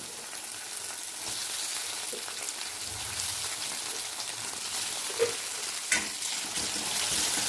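Tomatoes frying in a pan for a curd brinjal curry give a steady close sizzle with a few stirring scrapes and small pops, and no voice over it.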